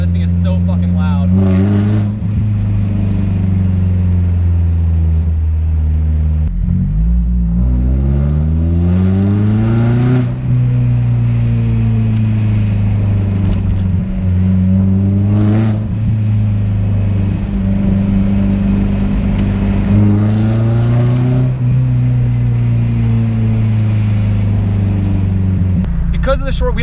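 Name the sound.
loud slammed, boosted Mazda Miata driving around town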